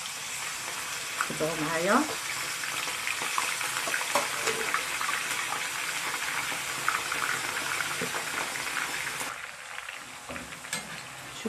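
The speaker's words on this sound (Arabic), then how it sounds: "الزيت تاعنا البنات راهي سخنت. نبدا نرمي الشيبس تاعي" Homemade potato chips drop into hot oil and fry with a steady, loud crackling sizzle. Someone speaks briefly early on, and there is some stirring.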